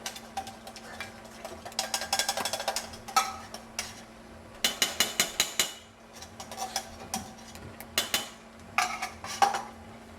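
A metal spoon scrapes and clinks around inside a bowl in bursts of quick rhythmic strokes, with short pauses between bouts; close and fairly clear, with no voices.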